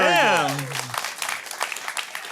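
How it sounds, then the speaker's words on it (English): A studio audience breaks into applause, a steady wash of many hands clapping that begins right after a voice and continues evenly to the end. "Give yourself a round of applause"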